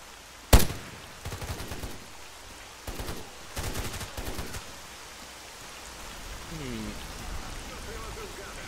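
Gunfire in the S.T.A.L.K.E.R. Call of Chernobyl game: a single sharp shot followed by several clustered bursts of rapid fire at moderate distance, fading into ambient background noise.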